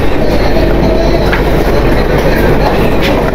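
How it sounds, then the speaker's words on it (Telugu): The Duronto Express runs on the Secunderabad to Delhi line with a loud, steady rumble and rhythmic clickety-clack of wheels on rails, heard from inside the coach. "సో ట్రైన్ జర్నీ అయితే ఈ విధంగా ప్రజెంట్ జరుగుతుంది."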